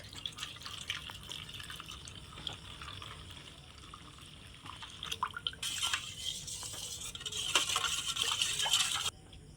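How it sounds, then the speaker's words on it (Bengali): Milk is poured into a bowl of beaten sugar, salt and egg, a soft trickling and splashing stream close by that grows fuller toward the end. "এবার এখানে দিয়ে দেব দুধ।"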